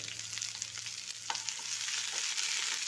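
Chopped onion sautéing in a pan for a country-style curry, a steady close sizzle and crackle with occasional stirring scrapes, no talking.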